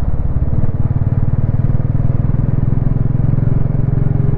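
A group of motorcycles rides past on a mountain road in Spiti Valley, making a loud, close, continuous engine rumble with a throbbing beat that holds steady throughout.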